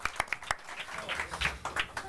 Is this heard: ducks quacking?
no